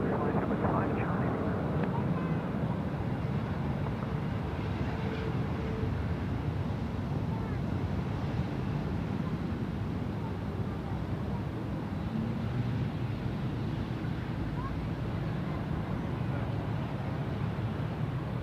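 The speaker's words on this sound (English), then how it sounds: "The Emirates A380 there from Christchurch, the one that you called up earlier, just rolling through now." An Emirates Airbus A380 rolls along the ground at Sydney Airport, a steady, broad low roar of jet engines heard from a distance with wind buffeting the microphone throughout.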